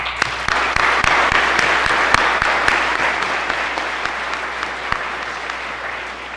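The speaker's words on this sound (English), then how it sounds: "Let's give the faculty a round of applause, please." Steady applause from a school audience at a Veterans Day assembly, sustained and fairly loud throughout with scattered sharper claps, no talking over it.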